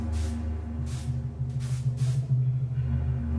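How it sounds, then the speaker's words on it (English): Chlorine disinfectant sprays out in about four short hissing bursts over a low background hum, close and fairly loud. "They sprayed Grandfather's room and his body with chlorine to destroy the Ebola"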